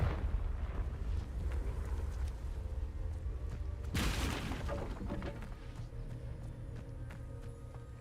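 A Confringo spell explosion in Hogwarts Legacy gives a sudden, loud burst midway, set against a rumbling, busy backdrop of combat noise and footsteps.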